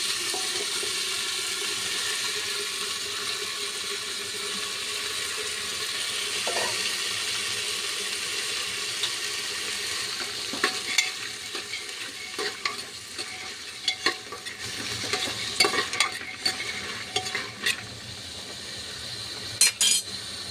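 Washed rajma beans go into hot sizzling spices in a pan and get stirred. A steady sizzle runs throughout, and scraping and clinking stirring strokes pick up in the second half.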